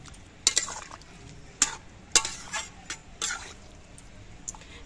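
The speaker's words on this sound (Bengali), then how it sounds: "কালো জিরে বাটা দিয়েও নেড়ে চেড়ে মিশিয়ে দিতে হবে" Spoon stirring ground black cumin paste into bottle gourd greens in a pan, a few sharp scraping clinks spread across the stretch over a soft background hiss, no talk.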